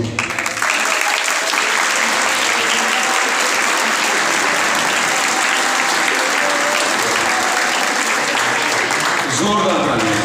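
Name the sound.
applause at New Year night Mass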